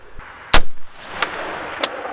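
A rifle built on a BCA 20-inch M16 A4 style upper fires outdoors while grouping at 50 yards, one sharp, loud report followed by two fainter cracks spaced about half a second apart.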